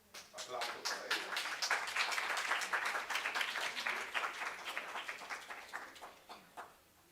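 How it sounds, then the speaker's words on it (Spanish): At a panel on the national sports ecosystem, an audience claps in a scattered, moderate burst that swells, holds for several seconds, then thins out to a few last claps. "Aplausos para ellos."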